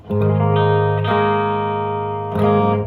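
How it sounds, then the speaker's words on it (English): Electric guitar chords strummed three times through a Boss IR-200 and Fender Tone Master FR-12, each ringing out and sustaining with a broad, spacious hall reverb tail. "That reverb is a hall reverb"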